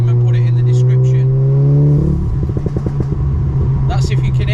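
A 400 BHP Audi with a DSG gearbox revs hard, its engine note climbing steadily before breaking into a rapid, loud string of crackling exhaust pops up close.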